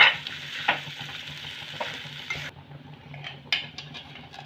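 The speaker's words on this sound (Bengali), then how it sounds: "আলুটাকে এবার আমি মশলার সাথে খুব ভালো করে মিশিয়ে নেব আর এই গুটি গুটি যেন না থাকে ভালো করে ম্যাশ করবো" Boiled potato is mixed and mashed with spices in a pan for aloo chop, giving soft scraping and pressing strokes with occasional light clinks of a utensil, louder at first and quieter later.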